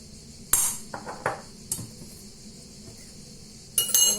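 A spoon clinks sharply against a bowl while eggplant salad with yogurt, sesame paste, salt and pepper is stirred, a few scattered close metallic taps with quiet scraping between them.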